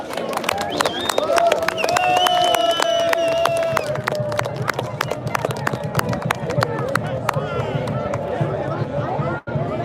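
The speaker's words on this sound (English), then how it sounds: "Please put one more loud round of applause for them for our Brian Clough." A crowd at an outdoor protest rally claps and cheers in a sustained round of applause, scattered hand claps over a steady babble of voices, with a tonal whine drifting through the first seconds.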